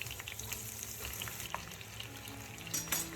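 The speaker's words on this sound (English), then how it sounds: "Heat the oil over medium heat, then add the sliced onions to the pan." Sliced onions sizzle and fry steadily in hot cooking oil in a pan over medium heat, a continuous close crackle with occasional louder pops and no talk.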